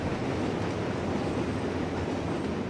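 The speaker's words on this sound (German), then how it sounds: "Ich höre einen Zug" A train rumbles past continuously in the Forza Horizon 3 racing game, a dense, loud, steady roar of rolling rail cars with faint clattering wheels, close by and uninterrupted, with no talk over it.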